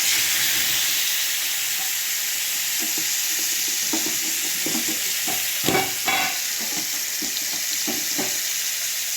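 Masala-coated fish sizzles in hot oil in a pan, a steady, close hiss with scattered pops and occasional stirring scrapes.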